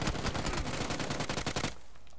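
A burst of rapid automatic gunfire from the PUBG video game rattles loudly for under two seconds and then stops abruptly, leaving a quiet background.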